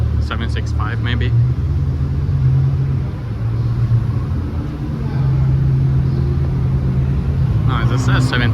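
A Ferrari F12 idles at a humid Dubai cars-and-coffee meet, its V12 engine and exhaust giving a loud, steady low rumble throughout. Voices are briefly heard at the start and end.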